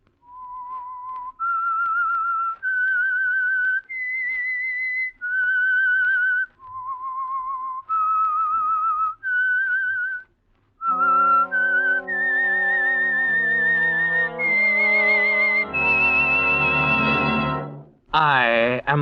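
A clear, solitary whistled melody of distinct held notes rising and falling, pausing briefly midway, then continuing with a rich accompanying tone underneath.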